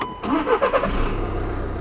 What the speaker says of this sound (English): And that one turns on the engine